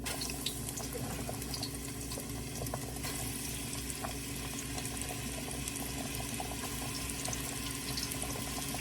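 Meat sizzles steadily in hot oil in a pan, a continuous crackling hiss at moderate level with occasional small pops, no talking.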